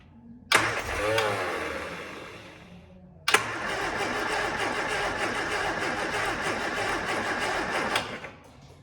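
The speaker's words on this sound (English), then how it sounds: "We need to get this thing started. All right, boost pack on." A Reliant Scamp low on fuel, cranked on a boost pack: a short sharp crank around half a second, then the engine catches with a loud burst and runs at a busy, rattly idle for several seconds before cutting off.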